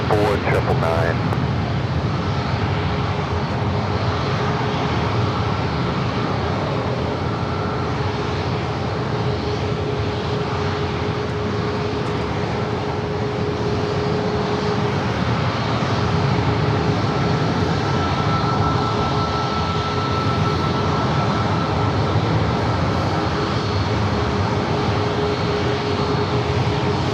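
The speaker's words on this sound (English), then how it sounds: "Southwest Airlines heading to Sacramento, flight 4999 to 737 MAX 8 up next." Southwest Airlines Boeing 737 MAX 8 jet at San Diego airport, engines giving a steady, loud roar that holds throughout with a faint tonal whine, likely under radio chatter.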